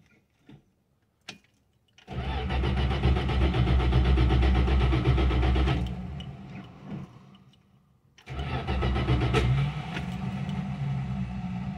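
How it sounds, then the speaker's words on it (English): A 1974 Dodge Dart engine that sat unused for five years is cranked over in two long bursts, a loud, steady mechanical churn lasting a few seconds each, with a quiet pause between them. "let's give it a turnover"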